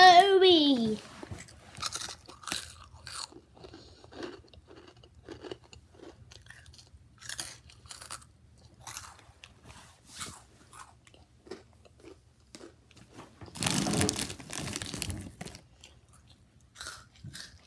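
Snacks being chewed and crunched close to the mic in short bursts, with a louder burst of crunching near the end and a voice speaking briefly between bites.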